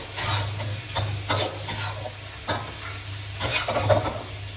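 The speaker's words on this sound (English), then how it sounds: "Cook and stir until thick and sticky." Pork belly stir-fried in a wok with shrimp paste, kaffir lime leaves and sliced chilies, giving a steady close sizzle broken by repeated scraping stirs of the spatula, loud and with no talking.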